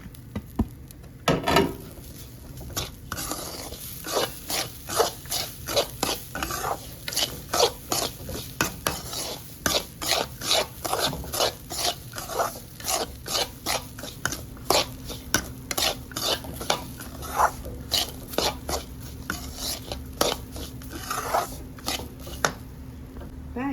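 A spoon stirs rava and grated coconut roasting in a dry pan, with rhythmic scraping strokes repeating steadily, close and clear.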